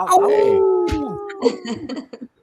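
A long, drawn-out howl opens a podcast episode about ghost stories, rising and sustained for about a second before breaking into trailing vocal sounds and brief bursts; it sounds like a human voice imitating a howl.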